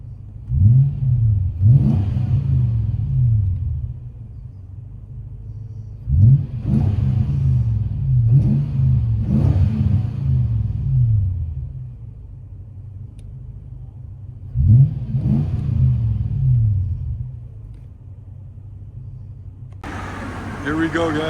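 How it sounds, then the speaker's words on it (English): A 2003 Toyota Tundra with a 4.7L engine and Borla ProXS exhaust revs in three separate bursts, each a deep rising roar that settles into a rumbling idle, heard close up with a voice talking over parts of it. "Toyota Tundra with Borla ProXS."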